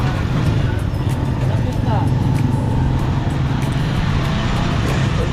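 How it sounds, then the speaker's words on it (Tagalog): Steady, loud engine drone and road rumble from a motorized tricycle ride in the Philippines, filling the whole stretch, with a person speaking over it. "Yan, nasa tricycle na po kami."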